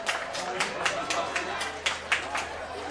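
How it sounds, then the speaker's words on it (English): Scattered audience applause at a high school ultimate frisbee championship semi-final, light uneven claps at a moderate distance under steady commentary. "some applause from the audience"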